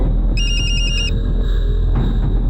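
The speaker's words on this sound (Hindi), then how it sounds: "फिर हम रूपा को फ़ोन किए।" A phone rings on an outgoing call, giving one loud, bright electronic ring pattern of rapid repeated pulses that stops after about a second, leaving a steady low hum.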